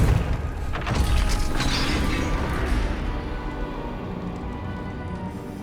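A Confringo fire spell from Hogwarts Legacy blasts a gate, giving a loud booming crash with rumbling debris that holds steady before slowly fading out over several seconds.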